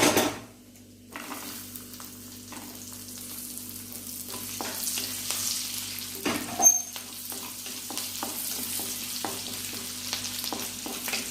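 Fennel seeds, black peppercorns, cinnamon, cloves and green chillies hit hot oil for an egg curry. After a brief quiet moment, a steady sizzle takes over, with sharp spattering pops and the clink of stirring, and nobody speaks.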